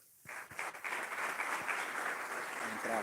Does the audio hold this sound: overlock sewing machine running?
no